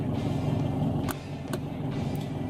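A car engine idles steadily in low gear with its headlights switched on, a continuous close rumble interrupted by a few brief clicks.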